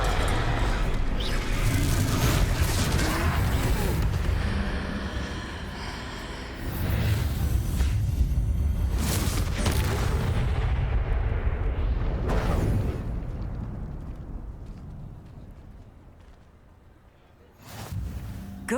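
A Confringo fire-blast spell from Hogwarts Legacy goes off in a troll fight, loud booming bursts over dense battle noise that swell and fade, with a final sharp blast near the end.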